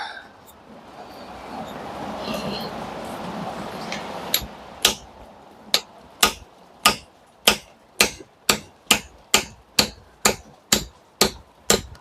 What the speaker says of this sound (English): So pitching chisel.